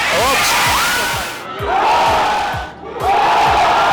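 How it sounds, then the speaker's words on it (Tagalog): A loud crowd in a gym shouts and cheers continuously during a basketball championship game, with rising whoops and squeaky shoe sounds echoing through the large indoor space. "hiyawan na ang bumungad sa first quarter"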